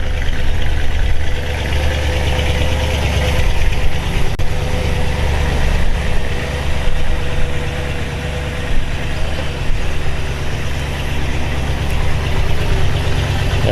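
A 1940 Ford Woody wagon fitted with a 327 Chevy V8 idles with a steady, loud, lumpy rumble as it is moved, constant throughout with no talking.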